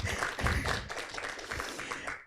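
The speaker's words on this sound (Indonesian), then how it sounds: "Boleh tepuk tangan dulu?" Audience at a book discussion event on lab rat movement in medical research clapping together, a dense, steady burst of applause lasting a couple of seconds and fading out at the end.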